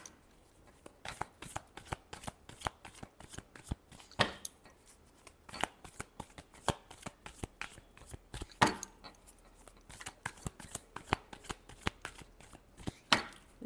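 Tarot cards being riffled and shuffled close up, a long run of sharp rapid flutters and slaps in irregular bursts with short pauses, no talking.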